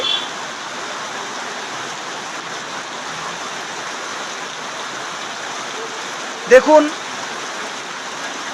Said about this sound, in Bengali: কত বৃষ্টি হচ্ছে